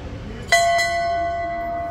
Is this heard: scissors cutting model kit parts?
no